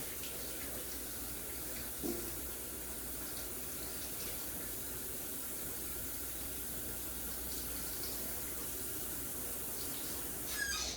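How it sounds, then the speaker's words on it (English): Steady running tap water pours into a sink as hands are washed in a home kitchen during cheesecake baking, a constant gentle gush with a couple of small splashes, no talking. "after I wash my hands again"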